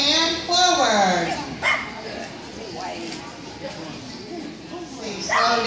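Dogs in a training exercise circle a course, giving sharp barks and yips up close over a loud voice that runs through much of the clip.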